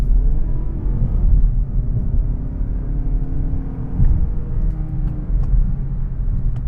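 A 2022 Mazda3 engine pulls hard uphill in sport mode, a steady loud rumble with rising rev harmonics, held in gear through a turn and swelling again near the end.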